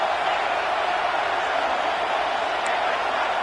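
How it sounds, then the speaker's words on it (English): A stadium crowd roars steadily on third down at a USC versus Georgia college football game, a dense, continuous wall of distant cheering and noise with no breaks. "3rd down and the crowd really getting into it"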